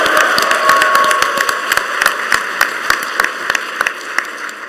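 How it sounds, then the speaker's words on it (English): Crowd applause at a PAX East 2015 gaming convention panel for Just Cause 3, loud dense clapping that thins slightly toward the end, with individual sharp claps poking through. "Round of applause."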